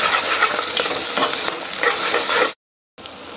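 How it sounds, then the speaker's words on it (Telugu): Mutton curry base of browned onions and garlic paste frying and being stirred in a pan, a steady close sizzle with spoon scrapes that stops abruptly, then resumes more quietly. "బ్రౌన్ కలర్ ఇలా వచ్చే వరకు వేపాలి బ్రౌన్ కలర్ వచ్చిన తర్వాత వెల్లుల్లి పేస్ట్ వేయాలి మిక్స్ చేయాలి"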